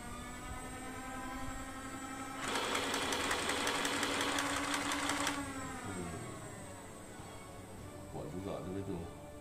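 The electric motor of a Nerf LMTD Aliens M41-A Pulse Blaster toy whirs in a buzzing burst of about three seconds. A voice talks nearby before and after it.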